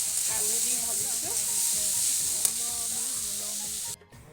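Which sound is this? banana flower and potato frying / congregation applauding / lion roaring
banana flower and potato frying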